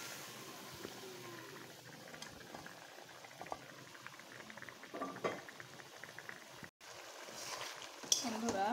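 Fried pointed gourd simmering in a cooked spice paste gives a steady bubbling, pattering sizzle with soft clicks and scrapes, moderately close and fairly quiet, with no one talking.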